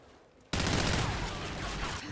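Dense, sustained gunfire from a multiplayer gun game match bursts in abruptly after a quiet start, then roars on loudly and continuously as overlapping automatic fire.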